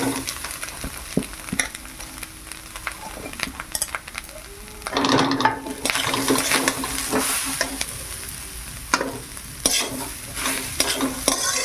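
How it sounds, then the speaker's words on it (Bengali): Grated coconut frying lightly in a pan with ginger, stirred now and then with a utensil scraping the metal, a soft steady sizzle that swells louder midway and continues with occasional clinks, no talk. "নারকেলটা একটু ভেজে নেই হালকা করে"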